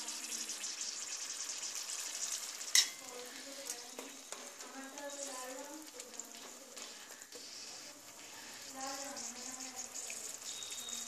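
Vegetable curry with a little water simmering in a pan, a soft, faint watery sizzle and bubbling heard close by, with a voice talking over it and one sharp clink.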